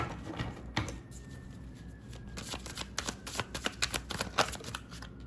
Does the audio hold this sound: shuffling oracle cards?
yes